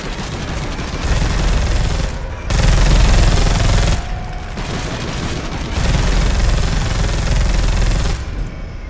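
An assault cannon in the video game Space Hulk: Deathwing fires long sustained bursts, a loud, dense roar of rapid rounds in several waves with brief lulls between, close and overpowering.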